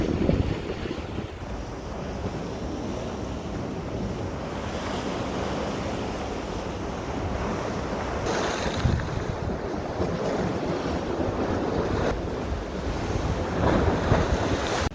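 Rough sea off Malta batters a fishing spot with continuous surf and heavy wind buffeting the microphone, a dense, loud roar swelling and easing in gusts with no pauses.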